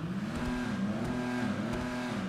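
A tuner exhaust on the Nebula Turbo drift car in GTA 5 Online revs steadily, a loud, continuous engine drone rising and falling in pitch with no speech over it.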